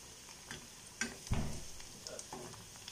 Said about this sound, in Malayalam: ഇതും ഫ്രൈ ചെയ്തെടുക്കാം.